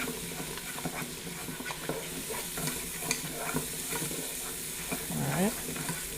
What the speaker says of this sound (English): Go ahead and mix that flour in real nice and neat.